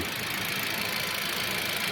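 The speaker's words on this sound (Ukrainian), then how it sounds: "Мотор працює рівненько, сухенький" A Kia Rio engine runs steadily at idle, a smooth even hum with faint mechanical ticking, heard close and alone.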